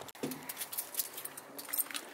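A bunch of car keys jingles briefly and faintly, with light metallic clinks scattered over a couple of seconds.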